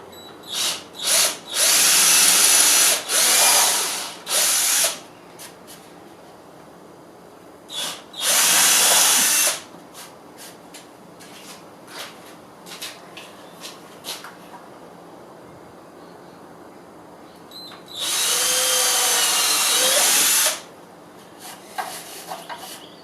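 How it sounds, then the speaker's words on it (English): A power drill enlarges screw holes in a bookshelf, whirring in several loud bursts, a few short runs at first, then longer ones, with quiet pauses between. "I'll drill those screw holes bigger, just to make sure my screws will fit in"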